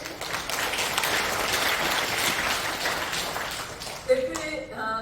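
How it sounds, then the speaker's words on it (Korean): A congregation at a Christian women's prayer meeting in an auditorium claps in thanks, a sustained dense wash of applause that tapers off, then a voice begins speaking near the end. "관계자 여러분과 조회숙 권사님, 국민의힘 국회의원님께 또한 감사의 박수를"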